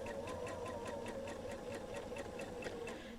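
A sewing machine stitches a quilt border onto green fabric in a steady, fast, even run of mechanical stitching that stays at a moderate level with no pauses and no talking.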